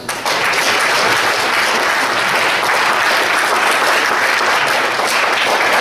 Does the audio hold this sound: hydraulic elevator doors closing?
no